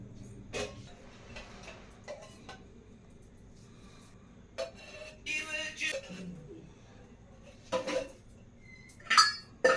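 A metal pan set on a home stove before making a Telugu chutney, with scattered clinks and knocks of cookware and utensils close by over a quiet kitchen background.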